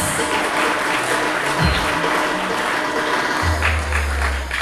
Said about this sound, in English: For her outstanding achievement, give a big round of applause